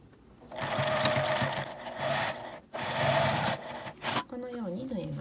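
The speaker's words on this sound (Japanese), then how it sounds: "ファスナーの上になる方を確認してこちら側に端ミシンをかけます。" A sewing machine runs in loud continuous bursts, stitching along the edge of a zipper on a small pouch made from a long fabric scrap, with two brief pauses before the motor stops and a voice speaks at the end.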